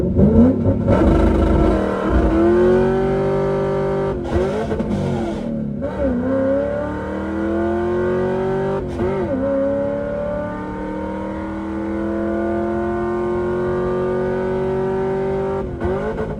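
New Edge Ford Mustang GT with a WOT box, loud engine revving and accelerating up through the gears, pitch climbing then dropping at each shift, some hesitation and stutter, close and continuous with no talk.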